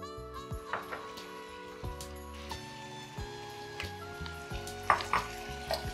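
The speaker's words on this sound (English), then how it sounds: "we're gonna go right into the pot with all of the seafood here" Seafood including leftover salmon, then corn, tipped into a hot pot for chowder, with a soft sizzle, stirring and scattered utensil knocks close by, fairly quiet.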